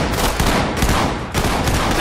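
Gunfire in the tactical shooter game Ready or Not comes as rapid, dense bursts of loud shots, close and repeated in several quick volleys across the moment.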